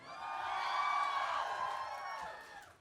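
A live show audience at Reggies cheers and whoops in a dense, sustained wash of voices that swells and then fades over a few seconds.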